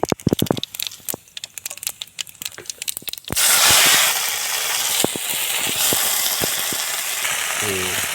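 Washed gongura leaves drop into hot oil in a pan for a Telangana-style gongura chutney, setting off a sudden loud hissing sizzle that settles into a steady crackle after a few seconds of clicks and rustling.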